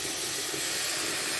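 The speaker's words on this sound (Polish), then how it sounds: "ale nadal się mocno gotuje" A pot boils hard on an induction hob even after the power has been turned down, giving a steady, close, hissing bubbling roar with no voices.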